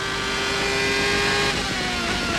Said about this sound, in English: And as Alesi shoots back out onto the racetrack